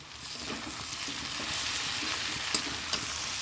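Water is poured into a pan of frying taro, potato and prawn curry, giving a steady hiss of sizzling with soft stirring scrapes and a couple of sharp clinks, close and moderately loud.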